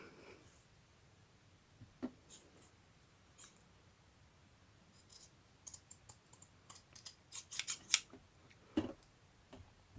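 Scissors trim paper for a summer journal craft page, with scattered quiet snips and clicks that grow into a quick close cluster of cuts toward the end, no talk.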